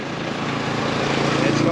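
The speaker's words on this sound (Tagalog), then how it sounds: "Naliparan natin ng drone." A drone flies near a food park viewpoint in Arayat, Pampanga, giving a steady droning propeller whine that builds slightly over a low rumble.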